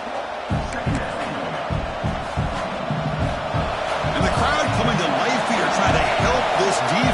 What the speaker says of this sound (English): the crowd coming to life here